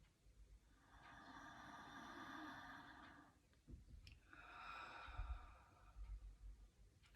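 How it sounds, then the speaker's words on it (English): Slow, deep breaths in and out during a calm guided meditation, two long soft airy exhalations spaced a few seconds apart, close and quiet with no talking. "closing your eyes, taking a deep breath in"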